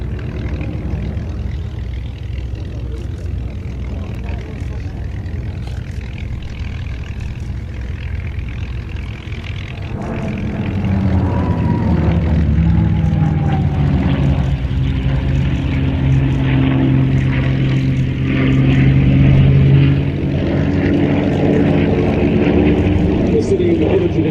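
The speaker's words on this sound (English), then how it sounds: "He's on the left wing of this formation, flying that P-51." A P-51 propeller fighter flies in formation at an aviation show, a steady engine drone growing louder and deeper partway through as the planes come nearer, with people talking over it.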